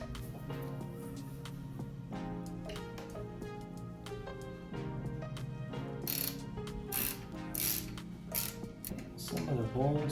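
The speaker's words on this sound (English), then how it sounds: "You can either use this one or this one with a ratchet." A ratchet turns a T30 Torx bit on the headlight bolts of a 1994 C4 Corvette, giving steady, rapid clicking that runs throughout at close range and moderate level.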